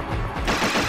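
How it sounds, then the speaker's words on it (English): A cannon item fires in the Kirby Fighters video game, a short burst of blasting noise lasting under a second, loud and close. "Oh, it's a cannon item."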